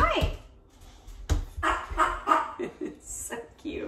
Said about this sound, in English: I think my dogs have stopped barking so I can continue